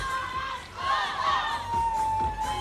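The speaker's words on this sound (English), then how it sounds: "Crowd breaking into song at the point that was won spectacularly here." A crowd at a teqball match in Koh Samui breaks into song after a point is won, a sustained chorus of many voices with whoops and cheers rising and swelling, heard from within the venue.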